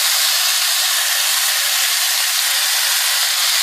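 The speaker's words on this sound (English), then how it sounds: "So it should start searing." Chicken sears in a pot for Dominican stewed chicken, a loud, steady high sizzle and hiss filling the clip without pause or voices.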